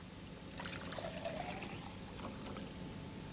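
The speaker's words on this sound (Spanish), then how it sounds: "Introduzcamos los gránulos en este vaso de precipitados y agreguémosle agua" Water pours onto granules in a laboratory beaker, roughly a litre being added, giving a soft continuous trickle and splash at low level with no talk.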